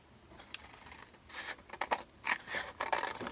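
Scissors trim paper junk journal tags in a series of crisp, close snips and scratchy slides that speed up into several quick cuts toward the end.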